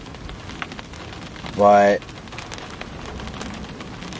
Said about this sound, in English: I'm just sitting in my car because it's raining